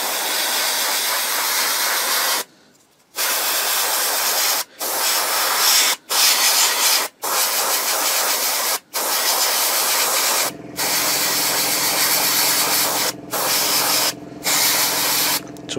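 An airbrush sprays eModels 00033 tyre paint onto the wheels of a 1/35 scale Takom Chieftain Mk10 tank model, a loud continuous hiss broken by brief pauses as the trigger is released.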